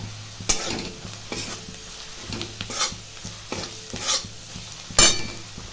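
Masala with cumin powder fries in a pan, a soft sizzle running throughout while a utensil scrapes and knocks against the pan every second or so, close and with no voices.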